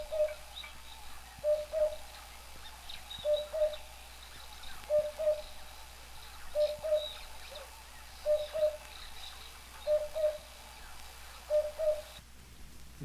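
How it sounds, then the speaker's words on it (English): A red-chested cuckoo repeats its loud, persistent three-note call about every one and a half seconds, clear against a quiet outdoor background. "The red-chested cuckoo's song is just about one of the loudest noises we have and one of the most persistent"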